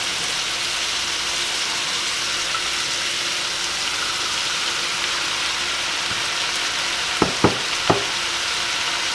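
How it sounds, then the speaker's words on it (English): Carrots and green beans stir-frying in a pan for a shrimp and veggie stir fry, a steady broad sizzle throughout, with a few brief clinks of a utensil near the end. "So our carrots have been cooking for about a minute. We are going to add in our green beans."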